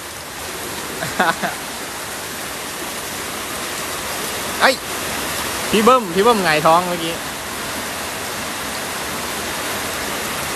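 Steady, dense rain hisses throughout at a livestream where pet frogs are let out to play in the rain, with a voice talking in short bursts over the downpour.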